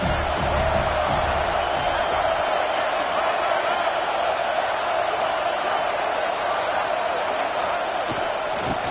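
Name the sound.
football stadium crowd cheering in video game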